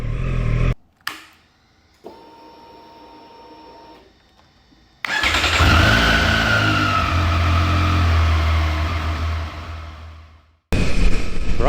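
A car driving through Tokyo at night, a steady engine and road rumble that settles in after some clicks and a faint hum, then cuts off abruptly before returning near the end, with no talking.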